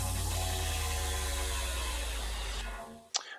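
A transition effect from a Splice sample pack, used between a track's build-up and intro: a dense, loud, whooshing mechanical texture sustains for about three seconds, thins out, then ends with a quick sharp hit.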